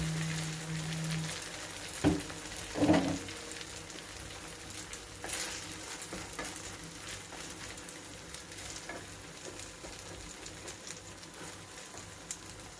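Food frying under a flat lid in a pan while breakfast is cooked, a steady close sizzle and patter with a couple of brief clatters early on and no talk.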